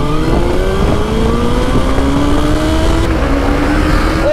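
Suzuki Hayabusa and KTM Duke 390 motorcycles launching side by side at the start of a drag race, engines revving loud and close with rising pitch as they accelerate, no talking.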